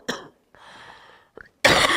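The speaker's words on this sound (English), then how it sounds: "cough, cough, cough." Several short coughs in a row, close and fairly loud, separated by brief pauses and breathy gaps, with no talking.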